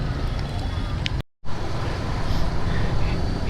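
Steady road and wind rumble from riding an MT15 motorcycle through Chennai traffic in monsoon weather, continuous and fairly loud, with a brief dropout partway through and a voice talking over it.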